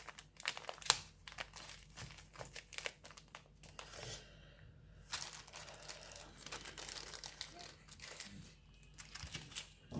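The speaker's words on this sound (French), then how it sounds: "vous allez entendre les croquettes de mes chats" Dry cat kibble rattling down out of an automatic kibble dispenser, a dense run of small crinkly clicks and patters over about ten seconds, close by and moderately quiet, with no talking.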